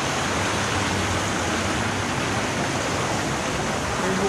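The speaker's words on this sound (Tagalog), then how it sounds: "may bukal dito." Spring water flows from a source on a farm in a steady, loud, unbroken rush heard up close, with no voices over it.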